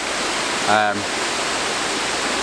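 A large waterfall in a landscape setting roars as a steady, broad rush of falling water that holds throughout, with a brief voice-like tonal sound partway through.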